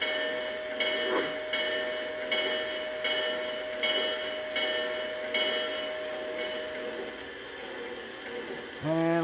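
A Lionel TMCC O-gauge Norfolk & Western Class J #606 model steam locomotive sounds its bell at a standstill, a steady string of evenly spaced clangs over a constant electronic hum, with a brief louder burst at the end.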